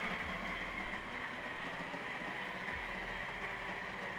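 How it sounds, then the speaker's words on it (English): A coffee grinder set to level 2 grinds beans in a loud, steady, unbroken whir that fills the whole clip with no pauses. "Let's switch that to a level 2 and get grinding."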